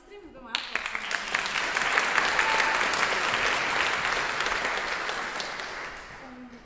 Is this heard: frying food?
no